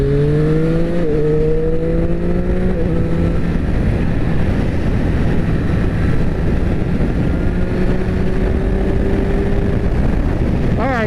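A 2024 Triumph Street Triple RS 765 Moto 2 Limited Edition motorcycle under way, its engine roaring loudly and steadily with rising revs that drop sharply at quick-shifter gear changes, buried in heavy wind rush, with no talking.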